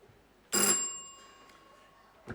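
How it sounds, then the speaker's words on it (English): A single bright bell strike rings out and decays slowly into a lingering tone, with a faint second tap at the very end. "Yes, Shriman also rings the bell."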